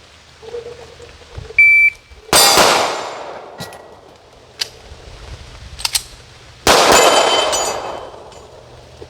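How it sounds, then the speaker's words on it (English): Canik TP9 Elite Subcompact pistol fired on a range with a magazine swap: a shot timer beep, then two sharp loud reports with ringing decay several seconds apart, small metallic clicks and clacks of handling in between. "2 shots on target, swap mags, 2 more shots on a separate target"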